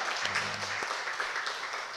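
Congregation applause during a church worship service, a soft, steady patter of many hands heard at a distance, fairly faint and filling the whole moment without speech.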